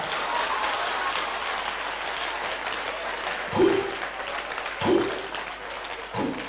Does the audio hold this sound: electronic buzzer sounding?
no